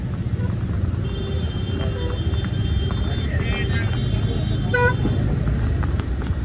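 Road traffic rumbles steadily close by on a busy street after a tempo accident, with engine drone, a few short horn toots and talk mixed in.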